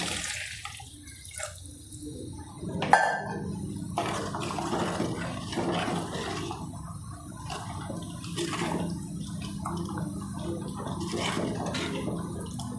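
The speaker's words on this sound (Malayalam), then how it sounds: "ഇനി നമുക്ക് ആവശ്യത്തിന് വെള്ളം ഒഴിച്ച് കൊടുക്കാം." Water poured into a pot of roasted-coconut thirandi (stingray) fish curry, a steady splashing pour running the whole time with a brief louder splash partway through.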